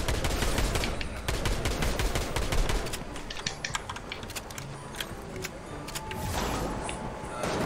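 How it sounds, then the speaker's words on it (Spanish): Gunfire in a Fortnite duos match, a rapid crackle of shots in dense bursts over the first few seconds, then scattered pops and clicks, fairly loud and close with game ambience underneath. "Más disparos, tío."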